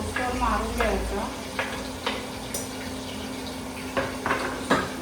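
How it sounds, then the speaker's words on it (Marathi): Onions fry in a pan until reddish, a soft background sizzle broken by several clinks and scrapes of a spoon stirring against the pan, with a faint steady hum underneath. "कांदा लालसर रोस्टर मारून घ्यायचा"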